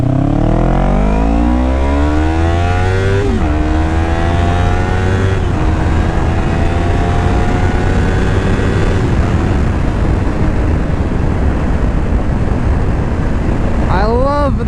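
A 2025 Yamaha R3 motorcycle pulls away and accelerates hard through the gears, its engine note rising in steady sweeps with shifts between them. The engine stays loud and close throughout, with wind noise building up as the ride goes on.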